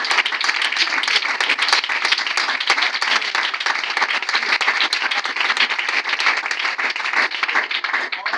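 Church congregation applauding during a Sunday worship service, a steady, dense wash of many hands clapping that carries on for the whole stretch with no pauses and no voices rising above it.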